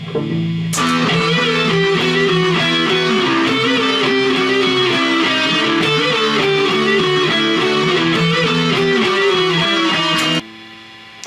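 Distorted electric guitar lead wailing over a chugging power-chord riff, loud and continuous, with sustained bent notes and a drum beat driving underneath.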